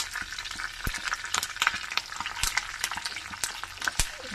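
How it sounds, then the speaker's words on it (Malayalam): Curry leaves sizzling in hot coconut oil in a clay pot, a continuous crackling fry with scattered sharp pops and faint stirring, close and fairly loud. "ഇനി നമ്മൾ ഇതിലോട്ട് കുറച്ച് വേപ്പിലിട്ട് കൊടുക്കാം"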